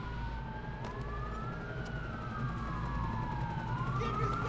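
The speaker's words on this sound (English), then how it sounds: "Oh, there's a police car." A police car siren in the video game Watch Dogs, a wailing tone that rises and falls over steady road and engine rumble, moderately loud and continuous, with no talking.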